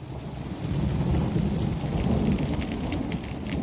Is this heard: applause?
no